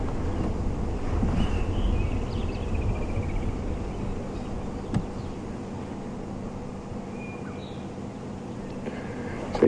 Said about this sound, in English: You can see wind gusting around her, the grass moving.